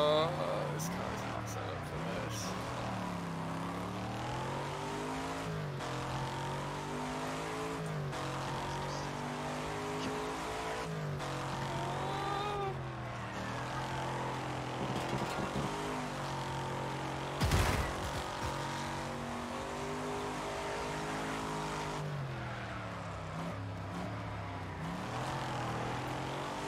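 A 1992 DTM touring race car engine in the RaceRoom sim, steady and loud throughout, with repeated rising and falling harmonic sweeps through gear changes and a sharp burst of noise near the middle, while a voice speaks quietly underneath.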